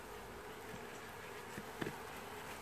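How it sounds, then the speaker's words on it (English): A steady, faint buzzing of many honey bees around a hive, a continuous hum with a few slightly louder passes close by. "Not quite as many bees, but we do have bees nonetheless."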